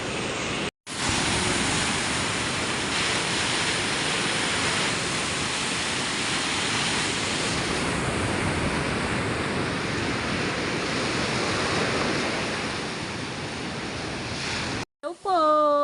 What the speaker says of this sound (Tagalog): Hindi po maganda ang panahon at may bagyo po dito sa amin.